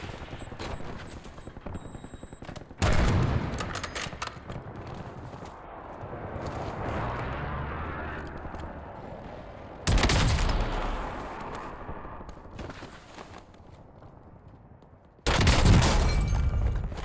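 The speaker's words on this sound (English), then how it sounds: "someone is shooting stuff on me, but I don't even know from where" Heavy bursts of gunfire crack out in Warzone as the player comes under fire, with loud volleys at intervals separated by quieter stretches of rumbling background combat noise.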